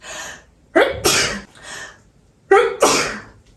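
Two loud allergy sneezes triggered by dust, a second or so apart, each with a quick breathy wind-up before the burst, close to the listener.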